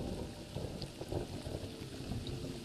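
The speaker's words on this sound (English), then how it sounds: "I've used the same procedural thunder." Procedural thunder from a Horizon Worlds virtual scene rumbles low and steady, a distant continuous roll with rain-like hiss and no sharp cracks.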